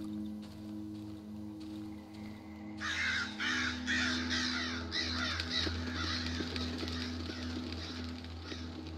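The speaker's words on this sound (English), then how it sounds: "Damn birds. Scared the bejeebus out of me." Crows caw repeatedly in the Darkwood video game, harsh calls near and fairly loud that start partway through over a low droning ambience and carry on steadily to the end.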